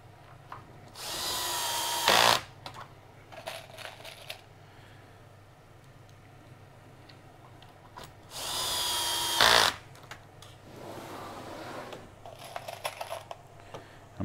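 Power drill driving screws into a melamine drawer corner, two loud whirring bursts of about a second each, separated by quiet handling clicks and shuffling.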